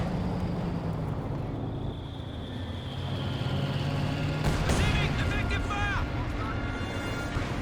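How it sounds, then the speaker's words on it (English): High explosive mortar barrage in Company of Heroes 2, distant booming impacts and battlefield rumble beneath engine drone, with a sharper burst of crackling detonations midway, under ongoing commentary. "Looks like he's using the high explosive mortar barrage."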